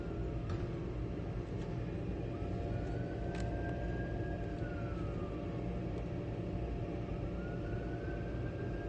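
A distant siren wails faintly, rising and falling beneath a steady broadband roar, with no voices present.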